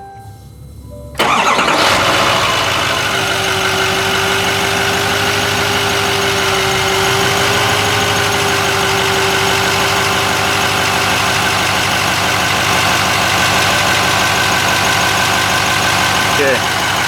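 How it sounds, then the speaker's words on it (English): A 2020-2024 L5P Duramax diesel truck engine cranks and fires after a brief quiet moment, then settles into a steady, loud, close idle with a faint whine running over the rumble. "We're going to start the truck up and show you what the flow looks like."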